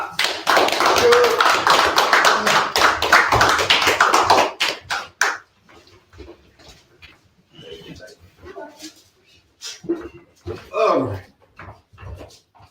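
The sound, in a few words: audience hand clapping for a speaker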